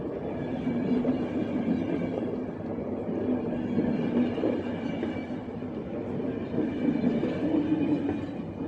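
A train rumbles along steadily in the video game The Final Station, a continuous low mechanical drone with faint rhythmic clatter and hum, heard alone without speech.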